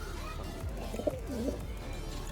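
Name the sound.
fancy pigeons cooing in a loft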